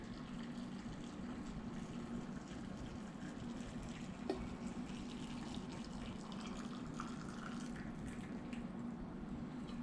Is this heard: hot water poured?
yes